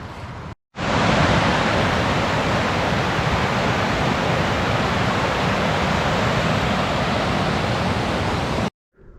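A loud, continuous roar of rushing water from a waterfall on a mountain trek near a glacier, steady and unbroken after a brief gap at the start.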